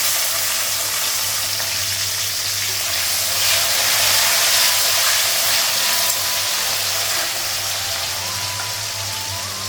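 Onion with ginger, garlic, cumin powder, turmeric and salt sizzling steadily in a pan at home, a continuous close frying hiss with soft crackle throughout and no talking.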